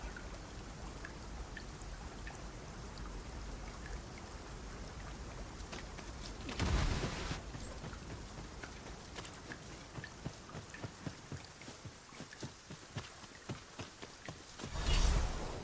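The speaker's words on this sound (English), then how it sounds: "It started raining, Master." Steady rain falls in Dragon's Dogma 2, a continuous hiss of drops and patter with scattered louder splashes and two brief heavier gusts, heard alone without speech.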